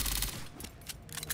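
Rapid burst of pistol fire from a new sidearm in Aliens: Fireteam Elite, several quick sharp shots in an uneven cluster after an opening blast, fairly faint with no talking.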